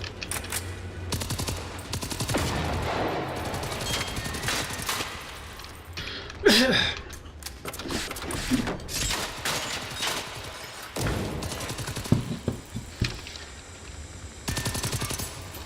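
Repeated bursts of gunfire and grenade launcher blasts in a Terminator video game, with rapid volleys, sharp booms and short pauses between them, loud and up front.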